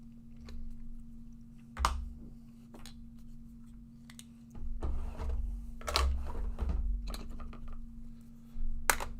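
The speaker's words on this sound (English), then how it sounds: "where can I put this keyboard? Let's put it over here." A computer keyboard is set down and shifted around on a surface, giving several scattered knocks and clatters amid quiet room noise with a steady electrical hum.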